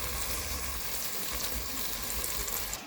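Roasted garlic dropping into a hot pan for Southern collard greens with smoked pork ham shank and turnips, giving a steady, close sizzle and frying hiss that holds evenly throughout without talk.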